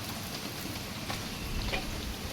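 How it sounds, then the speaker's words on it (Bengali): Rain falling outdoors, a dense even patter with scattered closer drops, steady and moderately loud throughout the short stretch with no voices. "আর কাল রাত থেকে আবার শুরু হয়েছে বৃষ্টি"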